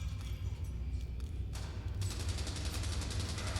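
Gunfire in the video game Fallout London, a distant fusillade of rapid cracks and thumps over a low rumbling background, growing denser and sharper in the second half.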